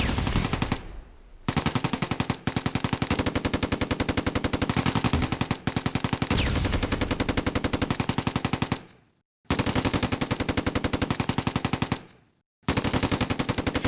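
Sustained rapid machine-gun fire in the Close Combat: A Bridge Too Far wargame, long dense bursts of evenly spaced shots separated by two short silent breaks, loud and close.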